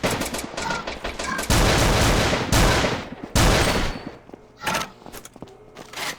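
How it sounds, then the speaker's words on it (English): Bursts of gunfire ring out on a patrol in the video game Aneurism IV, with loud, dense volleys and single cracks, some sustained fusillades, then scattered shots and thumps toward the end. "we went on a small patrol that ended in gunfire"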